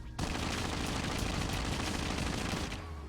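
Sustained automatic gunfire in the mobile shooter game Call of Duty Mobile comes as a dense, loud, continuous stream of rapid shots that lasts about three seconds and then ends abruptly.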